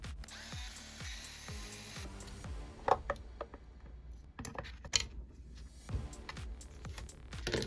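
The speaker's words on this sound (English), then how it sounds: "Next, we'll remove the woofer by unscrewing 4 screws." A power screwdriver whirs in short bursts, then a few clicks and rattles follow as screws come out of a Sony ULT Field 3 portable speaker to free its woofer. The sounds are close, with no talking.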